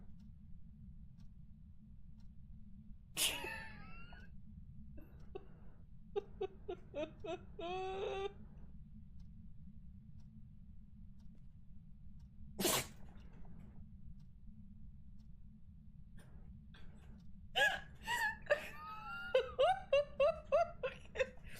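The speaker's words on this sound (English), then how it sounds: "The dog sneezed in my face." A dog in the video game Palia sneezes twice, two sharp brief bursts about nine seconds apart, amid quiet chirpy and whimpering game vocal sounds over a low steady hum.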